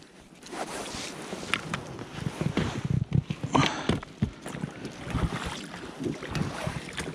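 Wind gusting over a small fishing boat on open water during a November perch and pike outing, a steady rushing buffet with occasional knocks and creaks, no voices.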